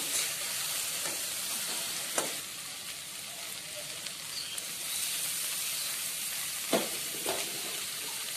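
Flattened rice (chira) stir-fries in a pan for chirer polao, a continuous soft sizzle with occasional scraping stirs and a couple of sharp spatula knocks.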